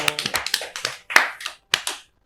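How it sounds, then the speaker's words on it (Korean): A small audience at a Korean talk show claps in short, sparse bursts, a few people clapping close to the microphone with uneven rhythm and brief pauses between groups of claps. "박수 한번 쳐주십시오."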